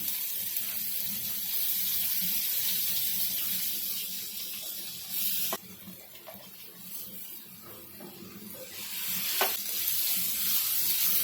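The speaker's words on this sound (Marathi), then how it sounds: "तेल गरम झालं ना की मिरची आणि लसूण टाकून घ्यायचं" Chili and garlic sizzle steadily in hot oil in a pan, a continuous close hiss with a couple of sharp clicks, easing slightly in the middle before swelling again.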